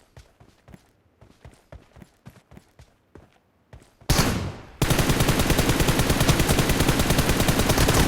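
Gunfire in the video game PUBG Mobile: a run of spaced single shots, then a loud burst and sustained rapid automatic fire rattling on without pause.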